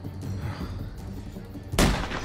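Gunfire in The Walking Dead: A New Frontier, with a loud sharp shot bursting out near the end after a stretch of lower rumbling background.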